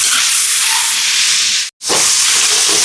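Tomatoes hit a hot pan and sauté with a loud, broad steamy hiss that cuts out for a moment and then resumes at full strength.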